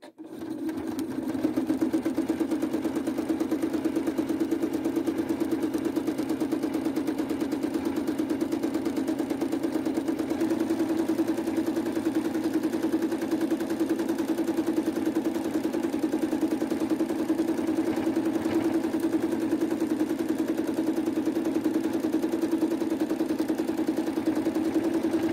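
Domestic sewing machine stitching steadily through free-motion embroidery, a continuous close, even motor hum with fast needle chatter that holds at a constant level for the whole stretch, with no talking.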